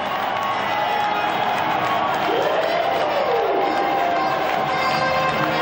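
An ice hockey crowd in an arena cheers after a win over Ingolstadt, a sustained roar of voices with a rising shout partway through, loud and continuous.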